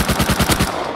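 Rapid automatic gunfire in the video game Rust, a tight burst of about six loud shots in quick rhythm followed by a fading echoing tail, with no talking over it.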